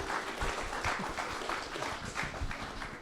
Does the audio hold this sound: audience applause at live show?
yes